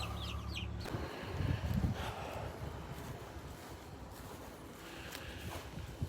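Chickens and young turkeys in a chicken tractor, scattered clucks and bird calls over a soft, busy farmyard background, with a brief louder rustle partway through.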